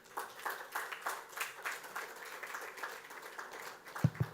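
Audience applause after a medical diagnostics presentation at a live event in Kozhikode: steady, moderately loud clapping from a room of people, rising and falling in soft waves, with a couple of low thumps near the end.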